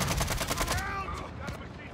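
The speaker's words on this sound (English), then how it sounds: "Oh, I just got sniped from the back." Gunfire cracks through a Call of Duty DMZ match on Ashika Island, with a sniper rifle shot among sharp repeated reports in the first second, then scattered fainter shots as a voice talks over the game sound.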